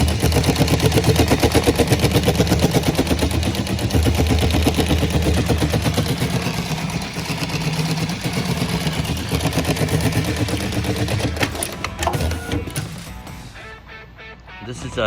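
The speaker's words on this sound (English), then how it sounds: "Now we're going to sew on this 4 layers of tactical webbing." A CNC sewing machine stitches through four layers of tactical webbing with 207 thread, a fast steady mechanical chatter with rhythmic needle pulses that runs loud and close, then slows and stops near the end.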